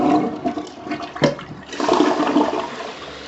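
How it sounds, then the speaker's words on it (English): A newly installed Delta toilet flushes nearby, a rushing gush of water with a sharp swirl midway, then a steady refill trickle as the tank and bowl refill, with no talking. "All right, let's test our flush."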